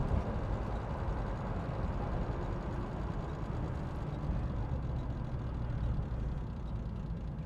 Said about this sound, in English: Again, here we are at idle. Car's not wanting to stall out. Idling real nice.